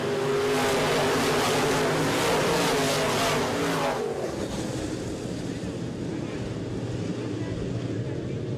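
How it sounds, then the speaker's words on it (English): Midwest Modified race cars roaring past after a green-flag restart at a July 2016 feature race, a loud dense engine drone that fades after a few seconds into wind and crowd noise. "Green flag is in the air. We're back to racing."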